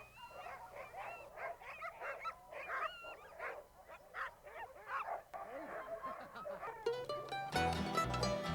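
Several Iditarod sled dogs bark, yip and whine excitedly in a busy, overlapping chorus close by, with a brief sharper clatter near the end.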